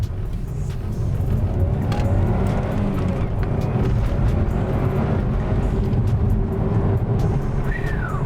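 A Subaru Forester STi accelerates hard, its engine note loud, close and sustained throughout with a steady broadband roar and a rising whine near the end.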